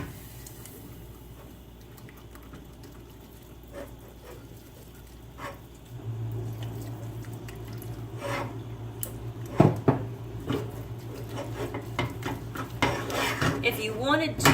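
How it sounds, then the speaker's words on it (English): Milk being slowly whisked into a pot for baked macaroni, starting with quiet clinks, then a steady background hum joined by rapid metallic clatters and rhythmic scraping of a whisk against the pot, growing louder toward the end. "Remove from heat and slowly whisk in 2 cups"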